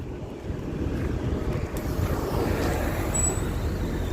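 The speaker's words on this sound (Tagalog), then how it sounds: "Sakay tayo ng bus." A steady low engine rumble and road noise come from inside a moving city bus, continuous throughout with a faint high whine late on and no clear speech.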